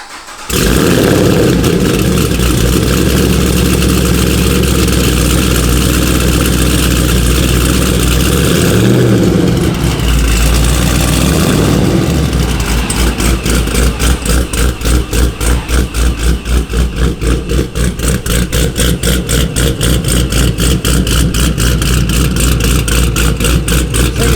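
A procharged Camaro V8 fires up from cold with a loud start, then settles into a heavy, loping idle with steady rhythmic pulses, close and unbroken throughout.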